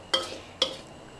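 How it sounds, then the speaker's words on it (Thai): Eggs with dark soy sauce are stirred in a wok, giving two quick, close metallic scrapes and clinks of the spatula against the pan over a faint background. "ใส่ซีอิ๊วดำไปนิดเดียวค่ะผัดกับก้นกระทะนะคะ"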